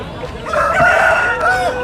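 A rooster crows loudly and close by at a country chicken market in Vizianagaram district, one sustained call rising and holding, with faint crowd murmur behind.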